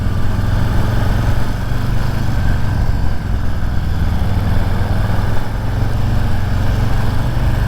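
Harley-Davidson Street Bob 114 motorcycle engine running steadily during a test ride, a continuous loud low rumble with a throbbing bass pulse and no gaps, heard close up with no talking over it.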